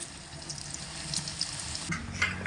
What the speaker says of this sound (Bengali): তো এবার আমি আলুগুলোকে তেল থেকে ছেঁকে তুলে নিচ্ছি আলাদা একটা পাত্রে।